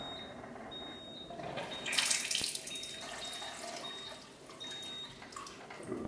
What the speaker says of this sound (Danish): Vi vil putte noget meget basisk vand, der kommer ud af den her.